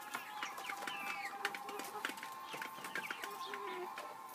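A chicken infected with fowl pox clucks softly and repeatedly at close range over a steady background hum, with no voices.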